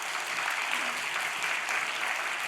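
Applause from a church congregation at a Friday night Holy Spirit worship gathering, a steady dense wash of clapping that holds loud and even from start to finish with no voices standing out.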